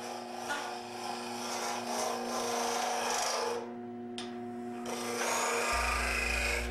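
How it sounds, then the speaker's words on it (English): Modified 3/4 inch scraper refining the inside of a wooden box spinning on a woodturning lathe, a continuous rasping scrape over the steady lathe hum, with a brief pause partway through. "I'm now going to refine that interior with a scraper."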